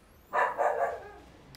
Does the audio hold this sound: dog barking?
yes